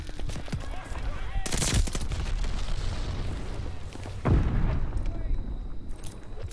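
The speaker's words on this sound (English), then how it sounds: "Stun grenade out!" A stun grenade goes off in Call of Duty Vanguard on PC amid rattling gunfire, with two sharp booms standing out over dense shooting and a voice in the background.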